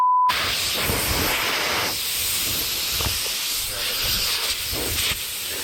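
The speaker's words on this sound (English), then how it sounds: "I lost all the air out of my tank, most of the air out of my tank" Compressed air blasts out of an airsoft HPA tank in a loud, sustained hiss that surges and fades in bursts, close by, after a brief tone at the start.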